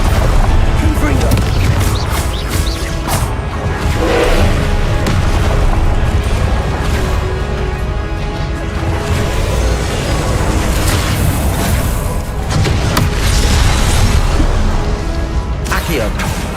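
Repeated fire-spell blasts in the Hogwarts Legacy video game, booming bursts layered over dense, loud game music and effects throughout, with a voice speaking at points.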